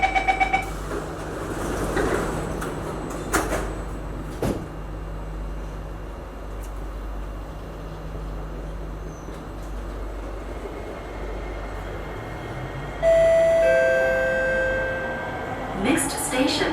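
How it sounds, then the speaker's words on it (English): Singapore MRT train between Braddell and Toa Payoh, heard from inside as the doors close and it pulls away: clunks and a chime, then a low rumble with rising whine of the motors as it accelerates. "Doors are closing."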